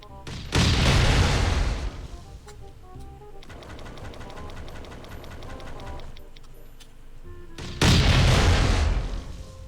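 Oil bombs exploding in the video game Last Island of Survival: two loud, heavy blasts open and close the stretch, with a busy rattling, crackling run of smaller bursts between them.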